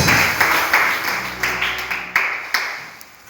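A church congregation clapping and applauding together, a dense steady patter of many hands with a few louder claps standing out, over a low murmur of voices.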